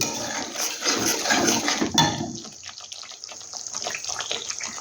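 Water poured and splashed to rinse out a bowl that held spices in a home kitchen, a busy running gush for about two seconds that thins into scattered drips and trickles, close by with no talking.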